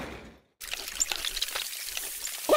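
Water pours onto the buddy in the Kick the Buddy game, a steady splashing, trickling stream that starts after a brief silence and carries on without a break, with a small squeak at the end.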